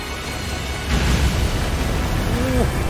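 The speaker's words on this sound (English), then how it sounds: "Explosions everywhere." Explosions in the Astral Chain video game, a broad rumbling burst that swells up about a second in and stays loud and dense under steady game noise.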